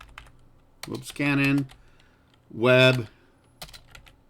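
Sharp clicks of typing on a computer keyboard come in short bursts between and around a man's speech, close and moderately loud.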